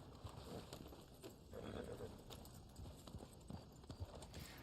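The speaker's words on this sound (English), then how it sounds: "Let me get on my horse." Horse hoofbeats from Red Dead Online clip-clop in a steady galloping rhythm, fairly close and continuous, with faint game ambience behind them.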